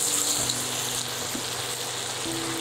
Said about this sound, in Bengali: আমি ঢাকনাটা একটু দিয়ে নিচ্ছি মিষ্টি কুমড়া একটু ভাজা ভাজা হওয়ার জন্য